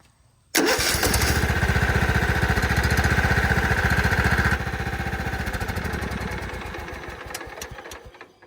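A small gas engine, apparently a lawn mower, fires up after a brief pull and runs loud and close with a rapid steady chugging that eases slightly toward the end.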